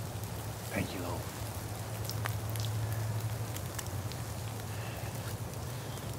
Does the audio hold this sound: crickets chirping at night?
no